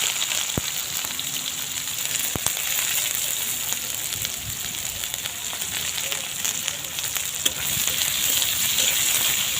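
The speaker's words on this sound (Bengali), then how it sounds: "তেল গরম হয়ে গেলে দেবো একটু জিরে আর দেবো পেঁয়াজ" Constant hissing sizzle of cumin and onion frying in hot oil, with a few sharp clicks and taps from utensils.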